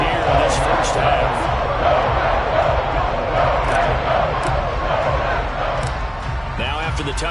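A football stadium crowd in a game roars continuously at high volume, a thick wash of cheering and crowd noise with scattered sharper shouts.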